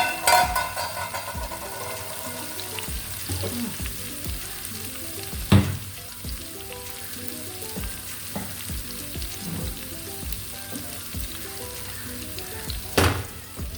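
Ginger, garlic and chili fry in a pan for coconut milk green gram stew, a close, crackling sizzle with occasional sharp knocks of a spoon on the pan and no voices.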